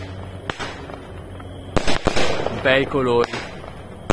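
Red Star 16-shot 20 mm fireworks battery firing outdoors, sharp separate launch pops with crackling bursts between, while a person talks excitedly over the shots.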